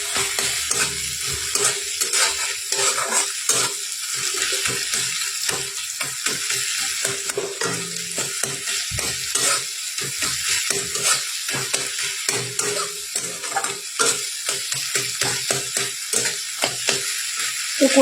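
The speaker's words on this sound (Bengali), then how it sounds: "দেখো পেঁয়াজটাকে কষিয়ে নিচ্ছি ভালো করে।" Onions sauté with salt, turmeric and a splash of water in a pan: a steady sizzle runs under quick, repeated scraping strokes of a spatula against the pan, close and fairly loud.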